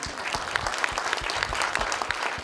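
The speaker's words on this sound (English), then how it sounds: "we can clap for him" Audience applause at a mayor's public safety forum, a dense steady patter of many hands clapping at moderate distance throughout, with no talk over it.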